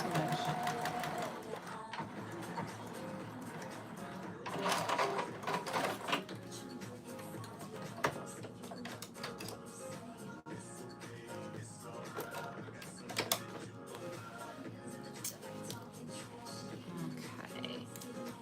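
A domestic sewing machine stitching with a plastic bobbin runs loudly and steadily, its rapid mechanical clatter continuing throughout with brief surges and a few sharper knocks.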